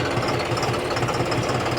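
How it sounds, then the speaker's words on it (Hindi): A John Deere tractor diesel engine idles at about 700 rpm in first gear, a steady close knocking rumble with even rapid pulses and no speech. "वो ट्रैक्टर मैंने आपको बता दिया आइडल आरपीएम के ऊपर चल रहा है, लगभग पहले गियर में 700 आरपीएम आइडल रहते हैं इसके"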